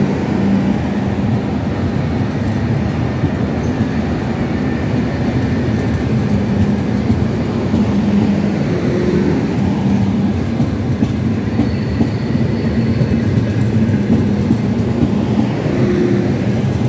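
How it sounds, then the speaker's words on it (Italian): A Trenitalia Frecciarossa high-speed train from Venice rolls into platform 3 at Roma Tiburtina station, a loud continuous rumble with steady wheel clatter, close by throughout. "Alta velocità freccia rossa 94-21 di Trenitalia"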